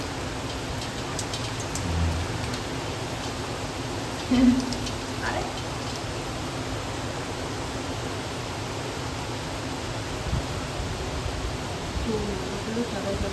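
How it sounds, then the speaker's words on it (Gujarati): Heavy Ashadhi monsoon rain pours down in a steady, dense hiss that fills the whole stretch, with a brief exclamation from a voice partway through. "એટલું સરસ અને સુંદર વરસાદ પડી ગયો છે."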